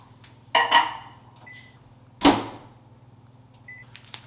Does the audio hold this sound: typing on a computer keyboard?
no